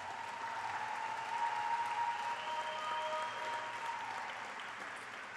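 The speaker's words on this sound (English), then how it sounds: "If I can have a round of applause for all of our automotive grads." Applause for automotive graduates at a technical school graduation ceremony, a steady wash of many hands clapping with a faint tonal hum underneath, sustained throughout.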